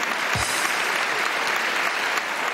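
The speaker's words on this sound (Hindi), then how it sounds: "बहुत अच्छे, तालियां बजाओ इस बात को" A studio audience at a Pakistani television game show applauds loudly and continuously. The clapping is dense and even from start to finish, with a single low thump near the beginning and no speech over it.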